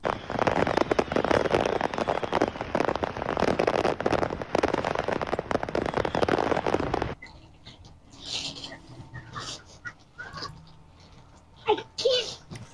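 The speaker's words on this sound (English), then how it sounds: "A truck full of fireworks crashed on the highway, and this was the end result." Fireworks from a truck that crashed on a highway burst in dense, continuous crackling blasts for several seconds, then stop. Scattered pops and reaction voices follow.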